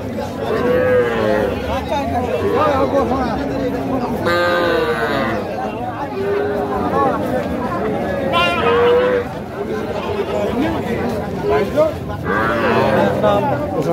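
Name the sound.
bull calves mooing at cattle market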